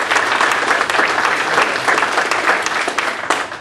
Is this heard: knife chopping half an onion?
no